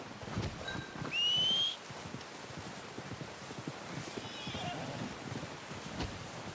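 A horse neighs in Red Dead Redemption 2, giving one clear rising whinny early on over a soft, constant outdoor background, with faint hoof clip-clops and rustling throughout.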